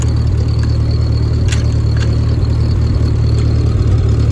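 A 1946 Ford 2N tractor engine idles nearby, a steady, loud, low chugging pulse with an even mechanical rhythm, plus a couple of faint clicks and nothing else over it.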